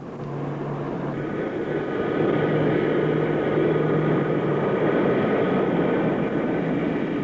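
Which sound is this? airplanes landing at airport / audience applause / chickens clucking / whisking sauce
airplanes landing at airport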